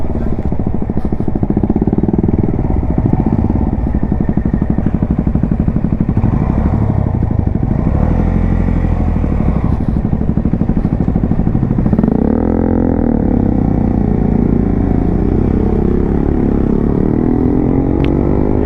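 A Honda CB 125 Hornet motorcycle ridden on a rough hill road off-road, with a continuous loud engine drone at close range that rises and falls with throttle changes and has rattling from the bumpy surface.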